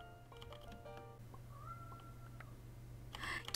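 A pet cat at home gives a few short meows, faint and somewhat distant, with a low steady hum underneath and a brief rustle near the end; no one speaks.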